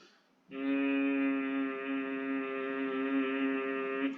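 A steady, deep humming tone held by a single voice for about four seconds, the Makar Dhwani breathing exercise, rich in harmonics and close up, with no talking.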